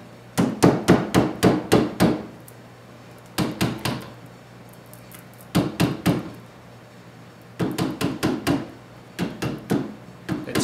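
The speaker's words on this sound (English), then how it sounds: "the flat-headed screwdriver is good to get in there and just tap these back into place" A flat-headed screwdriver taps woven seat strands back into place on a handmade bar stool, giving close, crisp clusters of quick light knocks, four to six per burst, separated by short pauses.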